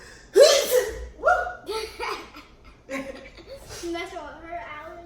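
Sneezing set off by seasoning while making Hot Cheeto wings in a home kitchen, with sudden loud bursts of breath and voice mixed with laughter and chatter, close to the mic.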